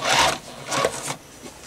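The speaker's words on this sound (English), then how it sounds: "here I am sewing my ruffle to the top section" A sewing machine stitches a ruffle onto a curtain, its rapid whirring rising and falling in two or three close, fairly loud bursts with brief pauses between.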